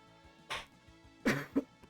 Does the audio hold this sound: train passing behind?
no